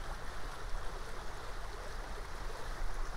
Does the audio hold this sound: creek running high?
yes